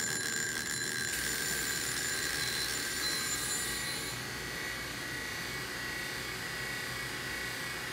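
A vacuum pump on a bell jar runs with a steady, loud mechanical drone and high whine, continuous with no breaks.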